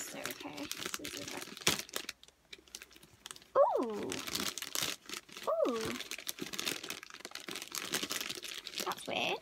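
Crinkling and tearing of packaging by hand, with rustles and sharp rips, and someone speaking briefly between the sounds.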